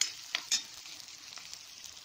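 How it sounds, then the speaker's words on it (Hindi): Onion, garlic and ginger frying on a medium flame while being stirred, giving a soft, steady close sizzle with a couple of sharp clicks from the spoon early on. "तीनों चीज़ों को मीडियम फ्लेम पे हल्के हल्के भून लेंगे चलाते हुए इस तरह से"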